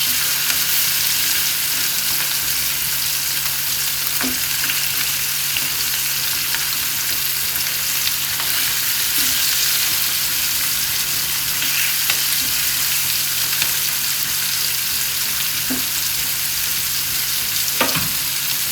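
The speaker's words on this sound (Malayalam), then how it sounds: "ഇതൊന്ന് മീനൊന്ന് വറുത്തെടുക്കേ" Fish sizzles steadily in a pan while being fried for a spicy Kerala fish curry, a continuous close crackle with occasional soft clicks and scrapes, and no voices over it.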